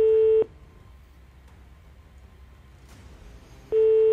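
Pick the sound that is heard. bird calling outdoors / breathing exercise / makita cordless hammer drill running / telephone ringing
telephone ringing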